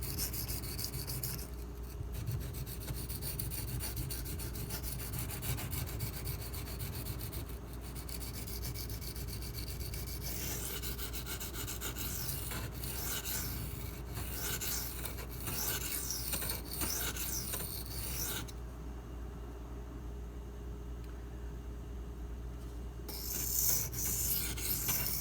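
A Spyderco Lil Native folding knife with a Rex45 steel blade is drawn across a sharpening stone in steady, continuous rasping strokes, with only brief pauses, close and fairly loud, with no talking.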